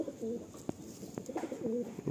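Madrasi pigeon held in the hand at a Sodepur loft, giving a few soft low coos in short bursts, near and quiet, with sharp handling taps and rustles between them.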